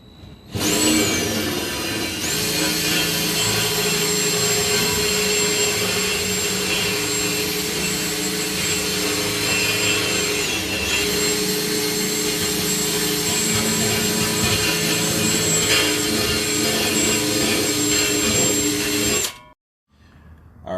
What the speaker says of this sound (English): flip your drill upside down, and you're just going to go around the metal rim